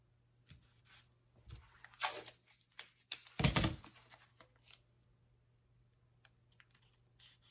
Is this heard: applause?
no